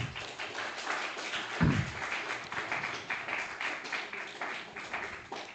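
Audience applause at a school Ramadan event in a hall, a sustained wash of many hands clapping steadily throughout, fairly even in loudness with one louder thump partway through.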